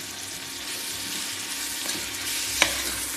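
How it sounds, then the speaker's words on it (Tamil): Tomatoes and onions for chicken biryani fry in a pan with a constant close sizzle and hiss, broken by a couple of faint utensil taps and one sharp click near the end. "தக்காளி நல்லா ஃப்ரை ஆகட்டும்."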